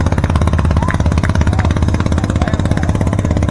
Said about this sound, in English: 48 Cushman hitting the trail